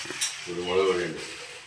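Garam masala stirred in a hot pan gives a soft sizzle and the scrape of a spoon, brief and close, with a voice murmuring over part of it.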